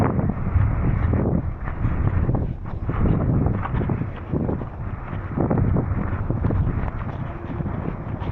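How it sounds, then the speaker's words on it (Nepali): Cold wind blows steadily across a mountain trail near Mt Cook, a loud, low rushing gust-noise with no clear speech. "यति चिसो हावा चलाएछ"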